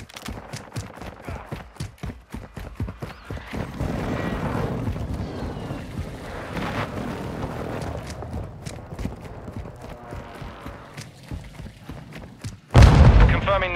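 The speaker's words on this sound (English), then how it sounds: "Enemy precision airstrike." Precision airstrike in a military shooter game: a string of rhythmic heavy thumps and booms gives way to rumbling, with one loud close blast near the end.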